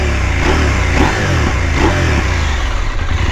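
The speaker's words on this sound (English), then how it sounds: "Sounds beautifully because of this Akrapovic, but the engine is so noisy, man." A 2021 KTM 890 Adventure motorcycle engine fitted with an Akrapovic exhaust revs loudly and close by, its throttle swelling and easing in repeated pulses over a steady, throaty drone.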